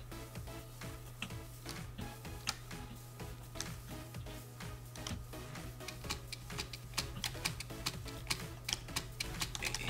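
Steady, fast computer keyboard typing clicks continue for ten seconds over a constant low electrical hum, evenly spaced, close and moderately loud, during Minecraft play.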